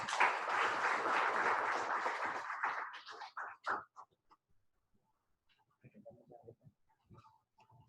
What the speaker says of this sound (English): please give him the big round of applause to welcome Engineer Dr. S.P. Vijayakan